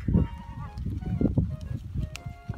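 Goats eat broad bean plants in a farm field, with soft munching and rustling of leaves close by under scattered bleats and farm animal noise.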